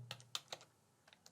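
Keystrokes on a computer keyboard while an email address is entered into a form, several quick separate clicks in two bursts, close and fairly quiet with no talking.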